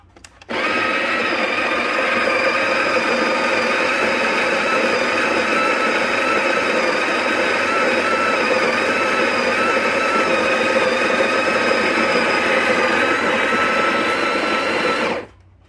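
Built-in grinder of a Breville Barista Pro espresso machine grinding coffee beans, a steady high-pitched motor whine that starts abruptly, runs evenly for about fifteen seconds close by, then cuts off, with no speech.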